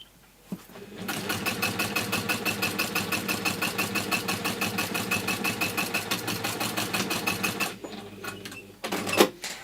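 A sewing machine runs a steady rapid stitch on a PU trim case, a dense regular mechanical chatter held for several seconds, then stopping and reversing briefly for a short back stitch at the end, close and loud.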